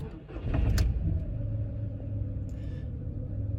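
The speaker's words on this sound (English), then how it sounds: "First start of this Polo." A Volkswagen Polo with 113,000 miles starts for the first time, a brief starter crank catching into a steady, close idle rumble that carries on to the end, with no talking.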